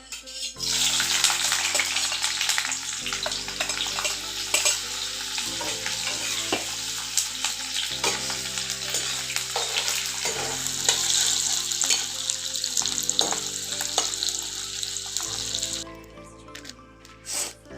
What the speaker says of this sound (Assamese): আমাৰ তেল গৰম হৈ গৈছে, এইখিনি দি দিব পৰা যায়।